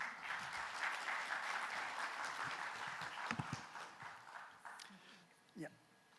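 An audience at a bio summit session applauds to welcome a speaker on AI governance in health, steady crowd clapping throughout, fairly soft and distant, tapering toward the end with a few scattered claps.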